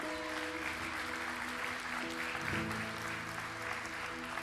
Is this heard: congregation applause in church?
yes